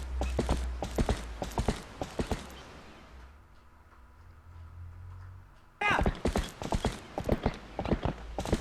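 Epona the horse's hooves clip-clop in Zelda: Twilight Princess, a fast, steady, close rhythm of hoofbeats that breaks off for a quieter stretch before resuming just as loud.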